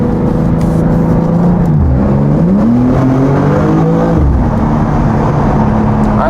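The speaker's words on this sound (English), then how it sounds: "Let's go into second, and I'll just floor it through it." A Jaguar F-Type accelerates hard in second gear through an underpass, its engine loud and close, rising in pitch, dipping briefly, then climbing again with echoing roar and no talking.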